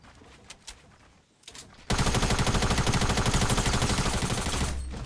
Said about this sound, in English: That purple SMG is insane.